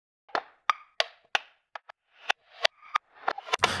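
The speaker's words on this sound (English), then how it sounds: "I wanted to give it like this very toy sounding, like wood block sound" Processed clicking sample shaped into a hollow, toy-like wood block tone: a dozen or so short dry knocks in an uneven rhythm, close and isolated, ending in a quick cluster of hits.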